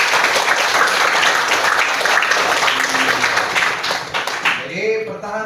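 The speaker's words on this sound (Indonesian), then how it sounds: "Tepuk tangan dulu dong" Students in a school classroom clap together in a loud, dense burst of applause that holds steady for several seconds, then thins out as a voice starts talking near the end.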